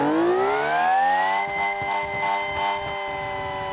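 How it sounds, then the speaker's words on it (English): A custom-built car engine revving in a driving video game, idling around 2000 RPM: a buzzy, whining tone that climbs in pitch and then holds, with a few rhythmic pulses as it settles. No voices are heard. "What a weird sounding engine."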